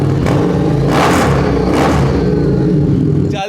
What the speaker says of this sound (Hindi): एग्जॉस्ट कैसी साउंड बनाता है चेक करो।